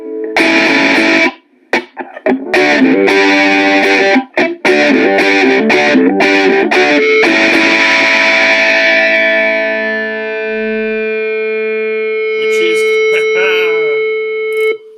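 Heavily distorted ukulele chords blaring through a Roland Mobile Cube amplifier's distortion effect, buzzy and saturated, then a long sustained chord fading out before a few final plucks.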